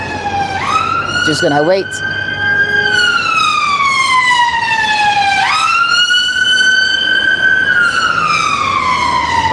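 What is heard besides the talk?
emergency vehicle sirens in Camberwell street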